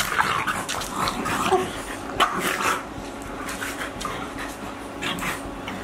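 French bulldogs and another dog scuffle up close, with continuous growling, yips and sharp barks over a busy, noisy background.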